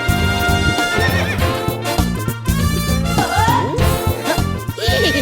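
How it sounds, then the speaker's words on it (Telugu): A horse neighs and whinnies loudly amid clip-clopping hooves near a church, in a comedy scene, with the calls rising and falling over a busy backing. "ఎవడన్నా గుర్రం ఎక్కుతాడు, వీడేంటో గుర్రాన్ని ఎక్కించుకున్నాడు"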